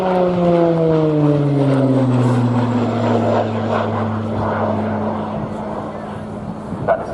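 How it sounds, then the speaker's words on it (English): An RAF Tucano display aircraft with an uprated Garrett TPE turboprop engine flies past at an air day, its loud propeller drone falling steadily in pitch as it passes, then receding beneath crowd noise. "That distinct noise you'll hear throughout the display is the uprated Garrett TPE turboprop engine fitted to the RN Tucano"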